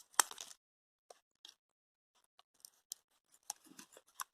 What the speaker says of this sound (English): So let me cut it.